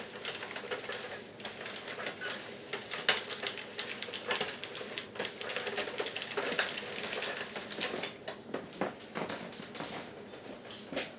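Addi Express knitting machine cranked by hand while knitting a hat brim from acrylic yarn: a dense, continuous rattle of quick plastic clicks at close range.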